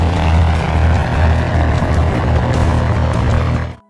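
Loud, steady roar of an airplane's engines taking off in the film Central Intelligence, with a deep propeller drone, continuous throughout before cutting off abruptly at the end.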